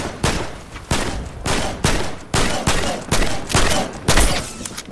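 Bursts of gunfire from the Fortnite video game come in a steady, rhythmic series of sharp, loud cracks. Each shot is followed by a brief echoing tail, and the shots go on through the whole stretch with no talking.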